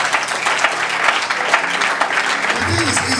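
A church congregation at a prayer and fasting service claps steadily, loud dense applause filling the space, with a voice speaking over it toward the end.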